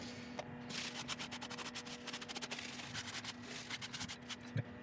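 Tissue wipes over a chestnut burl freshly brushed with shellac, giving a quiet, rapid run of soft rubbing strokes that stops abruptly near the end.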